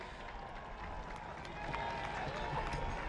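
Spectators lining the route of the UAE SWAT challenge 2024 race applaud and cheer, a steady, fairly faint wash of clapping and crowd noise that swells slightly toward the end.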